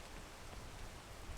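Rain falling in the video game PEAK, a faint, even hiss of steady rainfall with no distinct drops, heard alone at low volume.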